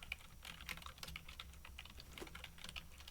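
Fingers tap steadily on a computer keyboard during C++ coding, a close run of light irregular clicks and key strikes with no voices.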